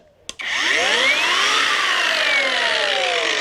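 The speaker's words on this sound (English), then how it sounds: "So then we've got the grinder." Kincrome battery angle grinder cutting steel: a sharp click, then the disc bites in and a loud, steady high-pitched grinding whine holds without a break, with pitch sweeps as the cut loads and eases.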